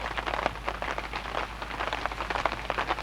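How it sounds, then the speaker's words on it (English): Hail pelting a tarp overhead at a campground during an afternoon thunder shower, a dense steady patter of hard ticks and taps close above, unbroken and without voices. "You see it's hailing like crazy."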